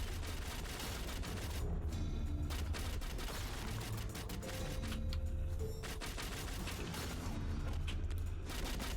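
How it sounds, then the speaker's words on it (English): Enemy gunfire in the video game Shardbreakers crackles in dense, rapid bursts of overlapping shots, steady and busy throughout with no talk. "A lot of people firing at me"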